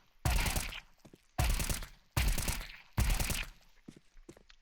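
Four short, loud bursts of automatic M4 rifle fire in the Counter-Strike 2 video game, each lasting under a second and separated by brief pauses.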